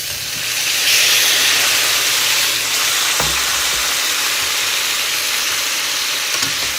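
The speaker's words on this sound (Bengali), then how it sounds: "টফু আর আলুটা ভাজা ভাজা হয়ে গেছে এবার এর মধ্যে দিয়ে দেবো ব্রোকলি" Tofu, potato and broccoli fry in a pan with a steady, loud hiss of sizzling oil, a brief clatter of stirring midway, and no voices.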